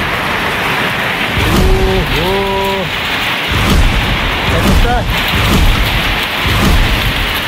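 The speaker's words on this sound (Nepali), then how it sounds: "मुसलधारा पानी परेको अवस्था, असिनाहरू पनि झरिरहेको छ" Torrential rain mixed with falling hail pours down in gusty wind, a loud unbroken roar with sharp spattering on surfaces, while a voice briefly exclaims over it.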